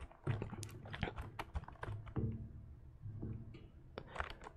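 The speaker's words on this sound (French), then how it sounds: "Malgré que ce soit un clavier à membrane, je trouve le bruit grave satisfaisant." Rapid typing on a membrane computer keyboard, with soft, low-pitched key presses clattering continuously at close range.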